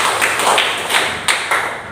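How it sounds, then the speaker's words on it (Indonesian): Students in a classroom clap together, a loud close patter of hands in uneven bursts with a few sharper single slaps, briefly swelling and fading. "Kita berikan tepuk tangan dulu."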